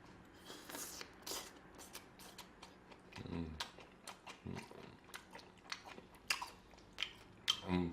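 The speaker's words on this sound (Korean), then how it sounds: "양파에 올려서 이제 불고기 같이 먹을게요" Close-up mukbang eating of bulgogi placed on onion, with wet chewing and soft biting noises in an irregular rhythm, small clicks and smacks throughout and no talking.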